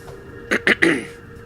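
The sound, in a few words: throat clearing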